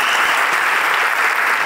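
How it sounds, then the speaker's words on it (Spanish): An audience at an awards ceremony claps steadily, a dense, loud wash of applause that continues without pause throughout and covers any other sound. "un aplauso para mi hijo Ibai"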